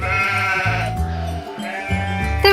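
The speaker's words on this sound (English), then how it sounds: "And now we have some sheep and pigs." Sheep bleating in a few loud, drawn-out wavering calls, close by and standing alone without talk.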